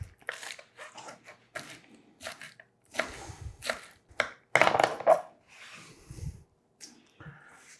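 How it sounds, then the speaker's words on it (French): Chives and green onion chopped on a cutting board with a knife, irregular bursts of crisp cutting strokes and thumps, close and fairly quiet, separated by short silences. "on va venir couper notre ciboulette, notre oignon vert."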